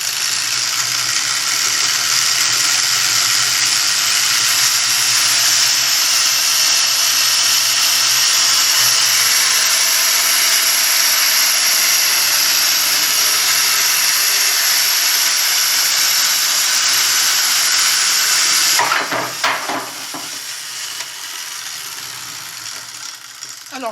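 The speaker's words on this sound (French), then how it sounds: "je fais tourner mes deux aimants" A homemade device with two rotating magnets, one turning the other, runs with a steady loud whirring, ratcheting rattle that holds for about nineteen seconds and then cuts off into a few clattering knocks and quieter residual noise.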